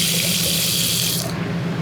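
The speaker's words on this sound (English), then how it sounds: "so we have hot and cold running water." Steady hot and cold running water pouring from the kitchen sink faucet in a 2021 Forest River Arctic Wolf 291RL travel trailer, a close, continuous gush that softens near the end.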